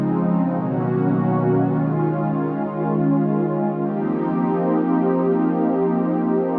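Piano chord with an added fifth, played alone at moderate loudness, struck and sustained, then voiced again partway through with notes ringing out and decaying.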